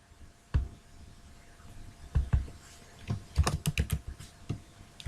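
Computer keyboard typing in a quiet room while writing an anchor tag's href attribute, with irregular bursts of sharp key clicks, including a fast cluster of keystrokes partway through and no talking.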